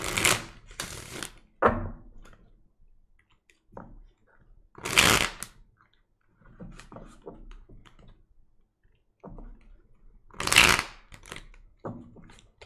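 Tarot cards being shuffled in several short bursts, crisp riffling snaps close to the microphone, with quiet gaps and small handling clicks between.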